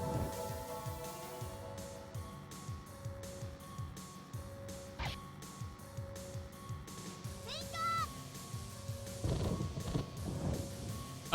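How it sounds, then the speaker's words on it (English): The Saint Arc lightning spell in PoPoLoCrois crackles and rumbles like a thunderstorm, with sharp zaps and rising electronic chirps over a dense, steady game soundtrack, while someone talks over it. "so Saint Arc is a lightning spell"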